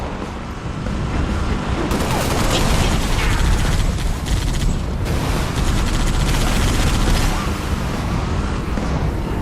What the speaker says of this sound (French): D'abord on tire.